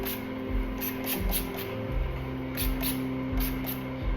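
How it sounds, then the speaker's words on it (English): Hair spray is misted lightly over curly hair in a string of short, soft hissing bursts, each a brief airy puff, close and quiet with no talking. "So I just lightly spray it everywhere."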